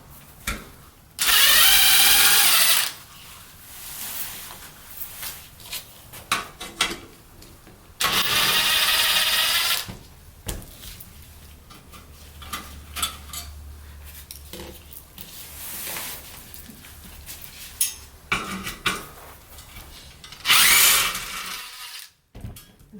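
A power tool buzzes in several short, loud bursts while screws are backed out of a Briggs & Stratton 121S02 small engine during a teardown, with clicks and handling clatter between the bursts.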